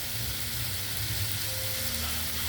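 Chicken tinola ingredients sautéing in a pan, a steady close sizzle and crackle of frying that holds evenly throughout, with no voices.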